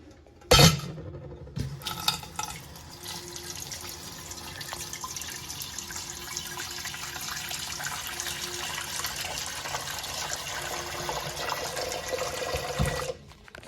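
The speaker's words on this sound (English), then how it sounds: "Put some water in this bowl." Water runs steadily from a tap for several seconds, splashing into a bowl, with a sharp clink at the start and a faint knock at the end.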